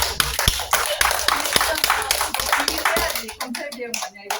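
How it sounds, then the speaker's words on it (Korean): A small group claps during an interview about a Korean democracy movement, with quick, close hand claps that fade out toward the end. Voices can be heard under the clapping. "박수 한번 칠까요?"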